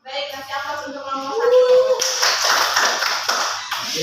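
A class gives applause to a presenting group during a microteaching session: a burst of many hands clapping steadily for a few seconds, following a brief bit of speech at the start.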